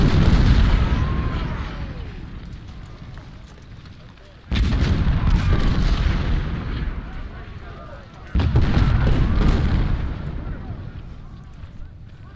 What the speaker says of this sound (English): Our cannon is opening fire at Pender's corps.